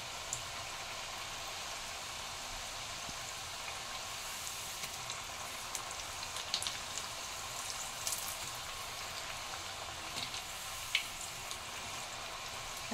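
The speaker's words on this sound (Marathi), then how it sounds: "आता मी बारीक गॅसवर याला छान मस्त गोल्डन अशा तळून घेते" Chakli frying in oil over a low gas flame makes a soft, continuous sizzle with faint scattered pops, fairly quiet and steady throughout.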